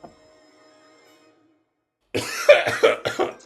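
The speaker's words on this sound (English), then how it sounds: "Excuse me, I'm coughing up a storm." After a quiet stretch, a burst of several harsh coughs in quick succession, loud and close.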